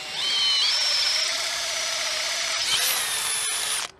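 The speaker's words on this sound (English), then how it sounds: "let's get this quarter inch, which is probably my dullest drill bit" A power drill bores with a dull quarter-inch bit while building a bending jig: a loud, steady whining drone that shifts to a higher pitch midway, then cuts off near the end, with no talking.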